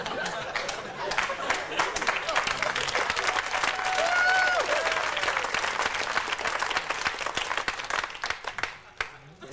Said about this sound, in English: You clapped too long.